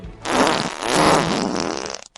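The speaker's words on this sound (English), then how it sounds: "Go to an app called iFart where you can find and hear different types of farts." A fart sound effect played from the iFart phone app: one long, loud, close flatulent blast with a wet, rippling texture, stretching about two seconds and then breaking into a few short sputters at the end.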